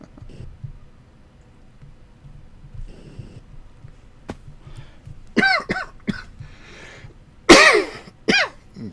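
A person coughs and clears their throat a few times during a live stream of FTOG Infinity Evolved Expert Mode, loud bursts near the microphone after a quiet stretch with faint background hum.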